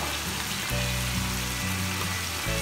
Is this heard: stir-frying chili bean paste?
yes